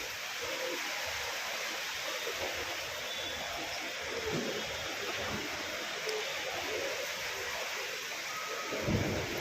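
Heavy rain pours steadily over Kolkata during a thunderstorm, a dense continuous hiss with low rumbles of thunder rolling underneath and a stronger gust near the end, with no talking.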